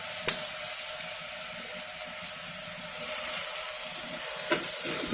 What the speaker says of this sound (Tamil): நல்லா ஒரு நிமிஷத்துக்கு வறுத்து விட்டுக்கலாம்.